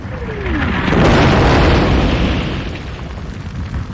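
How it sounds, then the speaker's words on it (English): Loud, rolling bombing explosions from the attack on the US fleet at Pearl Harbor, a deep roaring blast that swells and sustains for several seconds alongside a falling whistle-like tone, with no speech. "The Japanese entry into World War II came with the bombing of the US fleet at Pearl Harbor"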